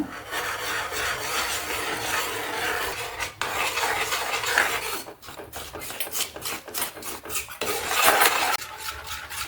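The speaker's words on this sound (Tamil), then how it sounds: "நம்ம கரைச்சி வச்சுருக்கிற அந்த கோதுமை மாவை கொஞ்சம் கொஞ்சமாக விட்டு கட்டி சேராமல் கலக்கிக்கலாங்க" Wheat flour batter is stirred into hot sugarcane juice for halwa, a continuous rasping, scraping sound of a utensil working around a pan, with quick rhythmic strokes in the second half, close and without talk.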